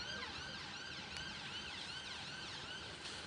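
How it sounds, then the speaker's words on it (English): Faint ambulance sirens wail in the distance in London, their rising and falling tones overlapping against a steady hum of city noise. "you might be able to hear some ambulance sirens just behind me."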